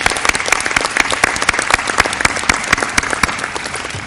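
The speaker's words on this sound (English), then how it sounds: "Let's give our sponsors a round of applause" A luncheon audience gives sponsors a round of applause, loud and close, with many distinct sharp claps standing out over a dense crowd clapping that tapers slightly at the end.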